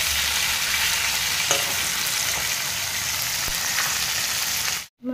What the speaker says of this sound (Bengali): এখন আমি বসিয়েছি মাছের মাথাটা ভাজতে দিলাম।